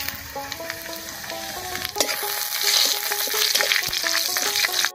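Dried chilli, bay leaf and whole cumin crackle in hot oil with a steady close sizzle, sharp pops and spatters, and stirring clinks over a faint tonal background melody.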